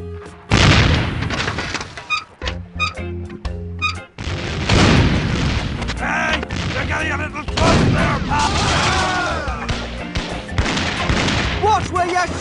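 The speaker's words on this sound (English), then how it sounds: "it's one of those new self-loading cannons I've heard so much about" In the Curse of Monkey Island video game, a self-loading cannon fires a rapid barrage of booming blasts. The shots keep up loud and continuous for several seconds against game music and sound effects.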